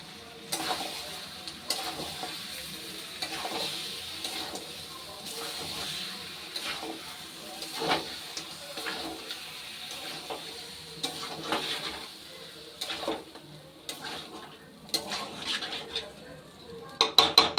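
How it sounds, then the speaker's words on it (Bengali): Mutton, potatoes and rendered fat sautéing in a pan, with a steady close sizzle and repeated scraping stirs of a spoon against the metal pan, plus some clinks near the end. "মাংস, চর্বি, আলু সব দিয়ে আরও ভালো করে কষিয়ে নিয়েছি।"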